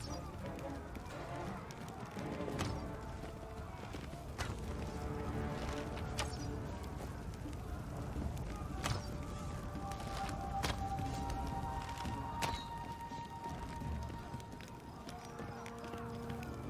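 Horse hooves clip-clop steadily in Pathfinder: Wrath of the Righteous, a moderate, even rhythm under ambient game sound and light background music, with a voice speaking nearby.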